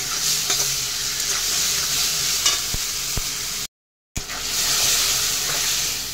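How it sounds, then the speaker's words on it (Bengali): Cumin and ground chilli paste sautéing in a pan, a steady loud sizzle with occasional scraping stirs and a brief gap of silence midway. "এরপরে দিয়ে দিলাম জিরে আর লঙ্কা সামান্য একটু বেটে, আবার একটু কষিয়ে নিচ্ছি।"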